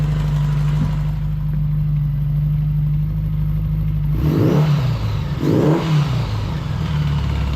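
A 1977 Honda GL1000 motorcycle engine runs for the first time in 20 years, idling with a steady low hum, then revving twice in quick rising surges before settling back, loud and close.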